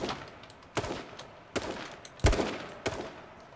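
Single gunshots ring out in H1Z1, five or so distinct reports spaced irregularly over a quiet background, fairly faint and somewhat distant.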